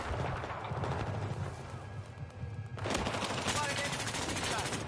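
Rapid automatic gunfire in a video game, loud and continuous with a brief lull midway before an even denser burst, set over a steady game soundscape.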